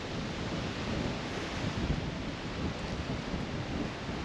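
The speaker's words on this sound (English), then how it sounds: "Wow, it is windy down here." Strong wind at Tucker Bayou, Florida, buffets the microphone in a constant loud roar of broadband noise, with no voices.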